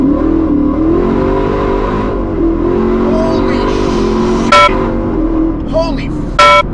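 A 1200 hp truck accelerates hard from around 40 mph, its engine drone rising steadily and staying loud and close throughout, with a couple of sharp bursts near the end.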